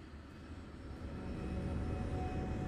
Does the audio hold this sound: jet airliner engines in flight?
yes